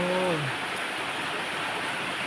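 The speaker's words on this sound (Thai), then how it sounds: "ฝนตกขนาดนี้นะครับเอฟซี" Heavy rain pours down at a Thai home near rice fields ready for harvest, a dense continuous roar of water; a brief tonal sound rises at the very start before the downpour continues alone.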